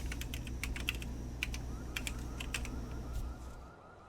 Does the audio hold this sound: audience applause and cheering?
no